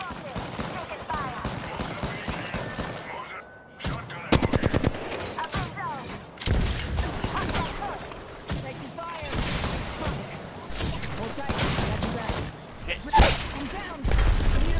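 Video game gunfire in a ranked online match: rapid bursts of automatic weapon shots, single cracks and heavy impacts crowd a busy mix, with players talking over the action throughout.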